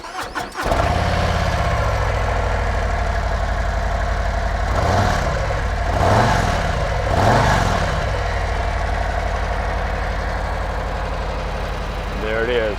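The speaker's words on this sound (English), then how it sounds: "I'll give you a quick sound check here. It has stock exhaust, so it's not super loud." A 2025 Harley-Davidson Street Glide Ultra with stock exhaust cranks and starts, then settles into a steady, moderately loud idle with a few throttle blips; a voice speaks briefly.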